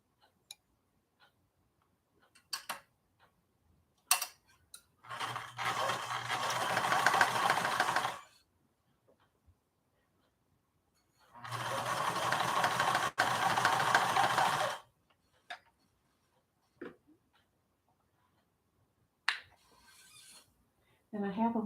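A sewing machine stitches across a fabric project bag in two steady runs of about three seconds each. Between the runs come sparse clicks and handling taps in a quiet room.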